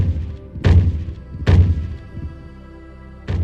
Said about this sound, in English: it's gonna make the sound effect each time I shoot